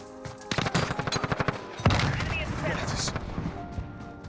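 An MP5 submachine gun with a Poison Dart setup fires a rapid burst in Modern Warfare, about a dozen sharp close shots in quick rhythm, followed by a louder blast and lingering battle noise under a player's voice.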